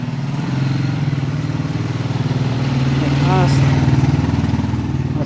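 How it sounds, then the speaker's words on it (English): A KTM motorbike arriving, its engine chugging with a rapid, even pulse that grows louder as it approaches, while a voice speaks over it. "here comes my housemate now on his motorbike"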